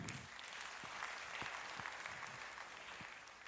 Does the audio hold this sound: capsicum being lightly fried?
no